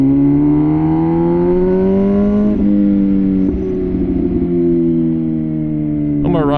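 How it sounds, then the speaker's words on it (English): Loud, steady engine drone from an MV Agusta Rush 1000 motorcycle while riding, the pitch rising slowly and then holding, with a voice talking over it. "This bike is so freaking loud."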